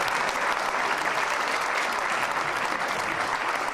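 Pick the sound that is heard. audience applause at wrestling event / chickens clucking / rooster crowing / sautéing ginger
audience applause at wrestling event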